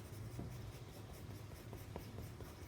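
Pencil sketching a cartoon character on paper, a soft steady scratching rasp with faint stroke ticks, quiet and close, no talking.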